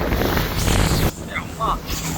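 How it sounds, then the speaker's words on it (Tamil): Strong wind buffets the microphone at the seaside, a steady rushing roar with surf beneath it and voices talking over it. "காத்து நல்ல காத்து அடிச்சுட்டு இருக்கு"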